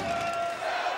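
Boxing crowd at York Hall, London, during a WSB Season 3 bout with many Ukrainian fans present, a dense continuous roar of cheering and voices filling the whole second at steady loudness.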